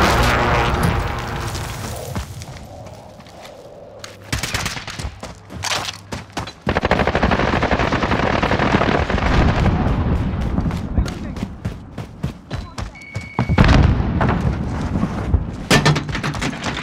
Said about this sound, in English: Precision airstrike.